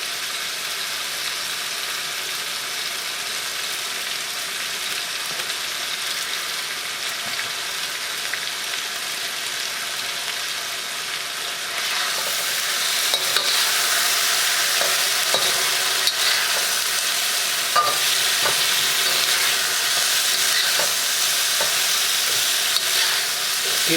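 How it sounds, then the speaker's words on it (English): Onions sizzle and crackle in a hot wok during a chicken stir fry, a steady broadband hiss that grows louder about halfway through, with scattered scraping stirs and no talking. "And then I'm going to start adding veggies. The onions in there first."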